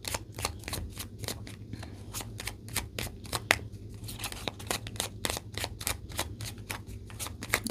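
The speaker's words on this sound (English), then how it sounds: "Let's get a card for you from this deck" Someone shuffles a deck of cards up close in a quiet room, with a string of crisp, rapid riffles and snaps at an uneven rhythm.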